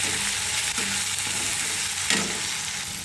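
Tomatoes frying with salt in a pan for a spicy drumstick curry, a steady close sizzle and crackle with faint stirring scrapes, no voices.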